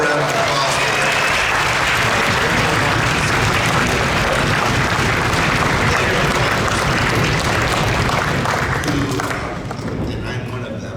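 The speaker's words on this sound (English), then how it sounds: "Let's have a round of applause for them." An audience at an honor orchestra concert gives music educators a sustained round of applause, loud and dense clapping that eases slightly near the end.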